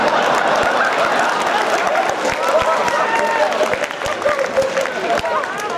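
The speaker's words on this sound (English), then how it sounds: "he's just clapping" Applause and clapping from a convention panel audience at Magfest, a dense patter of hand claps mixed with crowd noise, chuckles and voices talking over it throughout.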